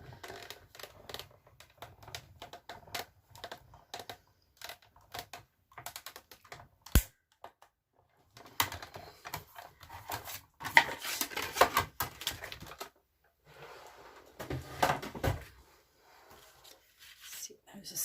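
A paper trimmer slices through card stock in a series of quiet clicks, slides and scrapes, irregular and close, with short bursts and pauses between strokes.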